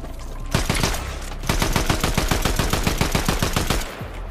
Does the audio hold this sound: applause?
no